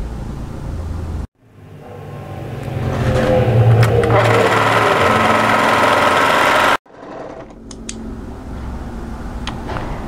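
An overlocker serges an angled fabric edge in a loud, continuous mechanical whir lasting about five seconds. It starts and stops abruptly, and a quieter stretch of machine noise follows.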